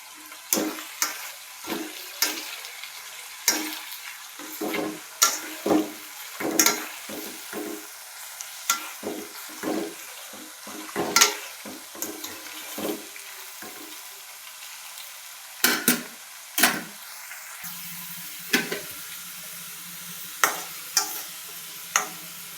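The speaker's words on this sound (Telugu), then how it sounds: "మీడియం ఫ్లేమ్లోనే ఇలాగా వేయించుకోవాలండి." A potato mixture fries in oil over a medium flame, giving a faint continuous sizzle broken by frequent sharp scraping and stirring knocks at irregular intervals.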